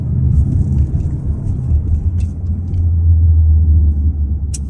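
A Volkswagen Tiguan 1.5 TSI R-Line drives along with a steady low engine rumble and road noise, swelling slightly as it pulls through the gears, with no voices over it.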